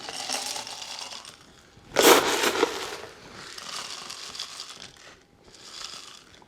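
Pebble ice tumbling into a cocktail glass with a brief, loud rattling burst, framed by softer crackling and clinking of the ice settling before and after.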